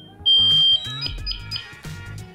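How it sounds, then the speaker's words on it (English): A firefighter's PASS alarm shrieks loudly at close range in a continuous high electronic tone, with warbling alarm pulses and clicks underneath. "So now I know my pass alarm is working."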